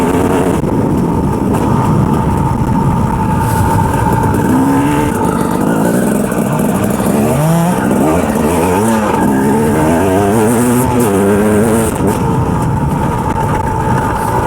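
A 2007 KTM 250 EXC dirt bike engine roars close and loud while riding, revving up and down in rising and falling sweeps over constant wind and engine noise.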